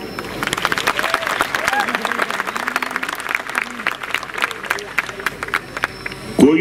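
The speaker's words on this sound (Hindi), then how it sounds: "आज ये जो आपकी तालियों की गूंज है ये मेरे कानों में रस बोल रही है" Audience applause at a national awards ceremony, dense and sustained for the whole stretch with crowd noise mixed in and a brief louder burst near the end.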